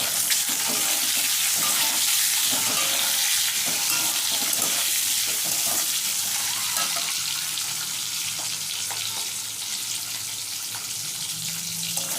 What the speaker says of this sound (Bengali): ডিমের মধ্যে সামান্য লবণ সামান্য একটু হলুদ দিয়ে লাল করে ভেজে নেব